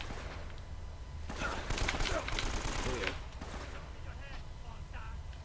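Gunfire from Uncharted: Drake's Fortune, a dense burst of rapid in-game shots over background game sound, loudest in the middle of the stretch, with voices talking over it.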